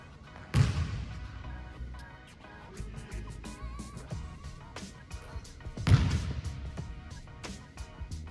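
A basketball bounces twice with heavy, echoing thuds about five seconds apart during a shooting warm-up in a gym. Fainter knocks and movement fill the space between the bounces.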